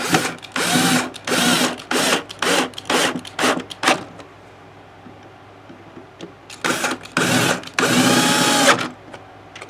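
A power driver whirs in short repeated bursts while screwing a guitar neck back into the plastic body of a Fender Stratacoustic, close and loud, with stop-start pulses, a quiet pause, then two longer final runs.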